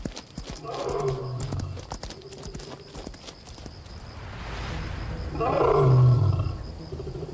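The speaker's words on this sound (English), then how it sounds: "It is not merely a call, but a true physical weapon, the roar of a mature male lion." A mature male lion roars in the sun-drenched African wild, two deep, rumbling bursts separated by a breathy pause, the second louder and closer, with faint background clatter.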